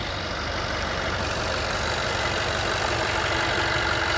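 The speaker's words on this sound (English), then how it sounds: "So yeah, this sounds pretty normal. There's no rattle" A Jaguar 5.0 engine idles evenly with a constant, close-up mechanical hum and no audible rattle or knocking. The sound holds steady throughout, with no voices.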